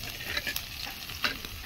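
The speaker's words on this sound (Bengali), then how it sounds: "এবার এটা যতক্ষণ না ব্রাউন হয়েছে ততক্ষণ আমি ভাজতেই থাকবো এইভাবে।" Chopped green chilli and onion frying in a pan, a dense continuous sizzle broken by scraping stirs and small clatters of a spatula, close and fairly loud.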